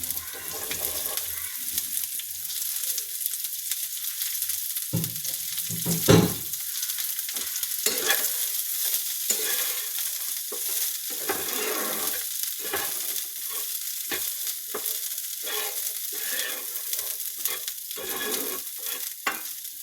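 Cauliflower fries with potato and salt for a stuffed puri filling, a close, constant loud sizzle punctuated by repeated spatula scrapes and stirring clunks throughout.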